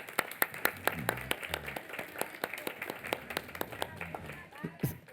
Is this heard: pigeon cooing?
no